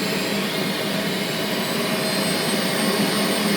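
A Gorenje VCE01SFABKR vacuum cleaner runs steadily at its lowest power setting, a continuous close whooshing motor drone without pauses.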